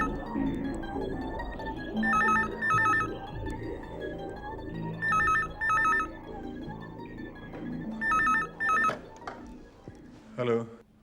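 A telephone rings in repeated double trills, four bursts with pauses between, over talking voices and background music.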